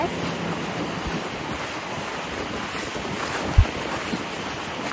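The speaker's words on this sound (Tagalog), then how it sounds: "Kaya ang ingay ng hangin." Steady rushing wind roars without a break, dense and full, with one brief low thump near the end.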